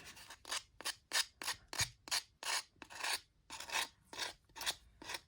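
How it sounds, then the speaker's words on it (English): Sandpaper rubbed by hand over vinyl wrap on an SSG1 carbon fiber airsoft barrel: about a dozen quick, close, raspy back-and-forth strokes in a steady rhythm, with no talking. "I would want to go over that just a tiny bit more with some sandpaper"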